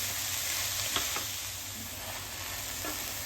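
Chopped elephant foot yam leaves cook in a pan, sizzling steadily up close while a spoon stirs them with a few soft scraping strokes.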